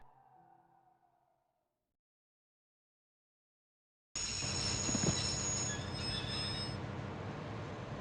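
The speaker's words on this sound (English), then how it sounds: "I'd always wanted to stop a train, and now was my chance." Train running in the PS1 game Broken Sword: after a brief faint opening and about three seconds of silence, a loud continuous rumble with rhythmic clatter and high squealing tones starts abruptly and runs steadily to the end.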